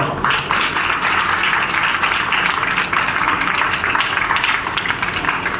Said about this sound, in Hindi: एक बार अपने लिए ताली बजा दो